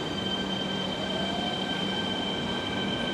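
A train runs through a station in Fukuoka on the line toward Hakata, a loud, steady rumble close by with faint sustained wheel squeal and no voices.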